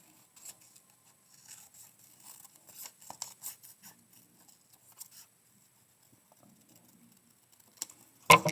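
Scissors snip through paper in a string of soft, close clicks and cuts to cut out a layer for a topographic map model, ending with a louder knock.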